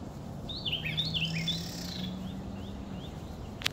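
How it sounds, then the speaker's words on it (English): Small birds chirp on a sunny winter day, giving quick high twittering calls over a low outdoor hum, with a faint steady drone and one sharp click near the end. "Look at these birds thinking it's spring."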